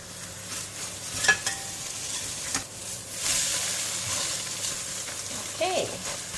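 An egg and prawn omelette fries in a pan with a continuous close sizzle and occasional scraping of a utensil, no talking over it.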